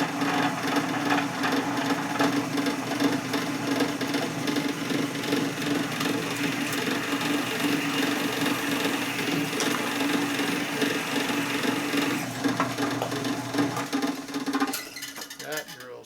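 A drill bores into the soft cast iron case of a 1947 Harley EL Knucklehead 74ci motor, giving a steady grinding whir with a low hum that runs close and continuous for about fourteen seconds before it stops.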